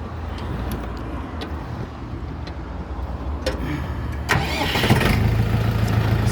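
After some clicking and shuffling, a Jinma 404 tractor engine cranks and catches, then settles into a steady, rumbling idle.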